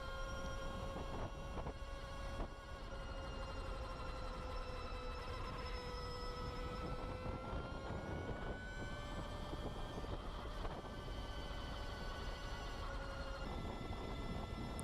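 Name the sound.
electric motorcycle straight-cut gear whine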